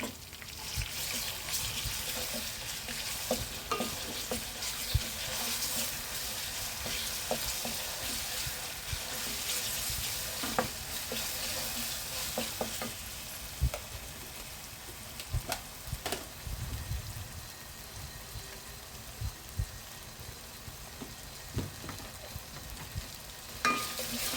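Ginger paste fries in a pan for a fish curry while being stirred, a long low sizzle with frequent scraping and clicking of the spoon against the pan, close and continuous, no talk.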